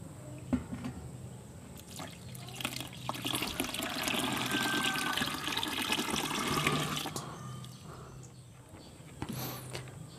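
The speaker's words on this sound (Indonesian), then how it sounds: "Kemudian sisa air cucian berasnya kita tuangkan." Leftover rice-washing water pours into a container of chopped fruit and vegetables for a homemade microbial starter, a steady splashing stream lasting several seconds, close by, then trailing off into drips.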